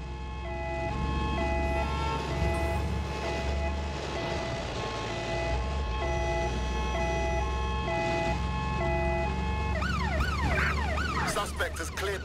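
A wailing ambulance siren sounds in the video game Watch Dogs Legion. It cycles steadily in a two-tone pattern over engine and traffic noise, then switches to a faster yelp near the end.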